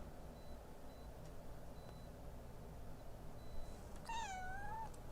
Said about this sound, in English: That was the saddest meow I've ever heard from you.